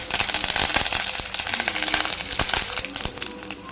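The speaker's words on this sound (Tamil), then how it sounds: "ஒரு பேனை எடுத்துகிட்டு அதில் எண்ணெய் சேர்த்து கடுகு சேர்த்துட்டு கொஞ்சம் கடலைப்பருப்பு போட்டு" Mustard seeds, chana dal and curry leaves frying in hot oil in a pan, a close, dense crackling sizzle with sharp pops scattered throughout, no talking.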